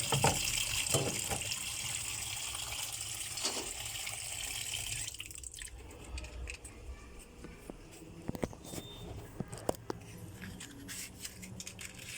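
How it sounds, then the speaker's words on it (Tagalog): Tap water gushing into a cooking pot before boiling macaroni, a loud steady pour for about five seconds that then cuts off, followed by quieter clinks, knocks and handling sounds. "Maglagay lang tayo ng tubig sa kaldero."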